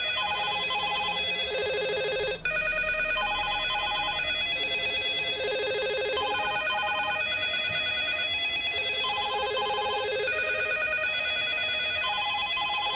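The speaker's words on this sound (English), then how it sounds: "The ringing will continue until the votes improve." A telephone rings over and over in the city-building game Frostpunk, a bright repeating electronic bell pattern that fills the whole stretch steadily with no voices.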